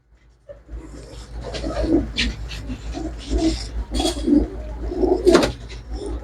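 Pigeons kept for flying give repeated low, throaty coos in short bursts close by, with wing flutters and scuffling between calls and a steady low hum underneath.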